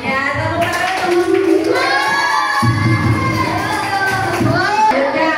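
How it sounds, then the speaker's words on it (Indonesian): Children in a classroom clap and cheer for a student group, a dense, continuous burst of hand claps and excited young voices with an adult voice speaking over it throughout. "Iya, tepuk tangan untuk kelompok"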